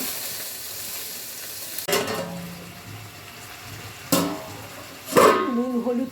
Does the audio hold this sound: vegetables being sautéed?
yes